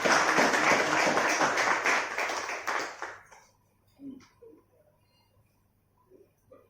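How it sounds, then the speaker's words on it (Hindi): Audience clapping to welcome a 69-year-old kettlebell marathon champion and fellow athletes. The dense applause is loud for about three seconds, then stops abruptly, leaving a few faint taps and quiet room sounds. "मैं चाहूंगा कि सब एक बार सुदेश जी का और हमारे सभी खिलाड़ियों का ताली बजा करके स्वागत करें।"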